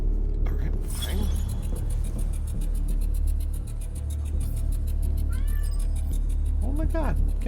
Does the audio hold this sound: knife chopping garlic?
no